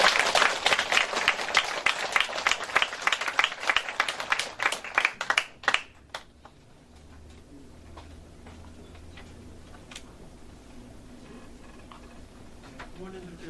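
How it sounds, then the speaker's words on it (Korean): Lecture audience gives a big round of applause after a special talk on children's education, crisp separate claps at first that thin into scattered claps and die out after about six seconds, leaving quiet room noise. "멋진 강의를 해주신 김수일 박사님께 큰 박수 부탁드립니다."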